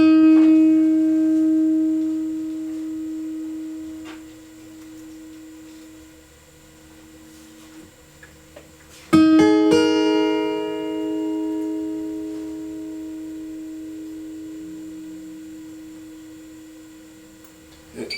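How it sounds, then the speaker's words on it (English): A Taylor V-Class koa acoustic guitar rings out one plucked note that sustains long and slowly fades, then a second louder pluck rings on with a quiet hum underneath. "I'm just going to play one single note, and I want you to listen to how long this note will sustain on a V-class."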